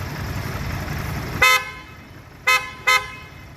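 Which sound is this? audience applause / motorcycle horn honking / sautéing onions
motorcycle horn honking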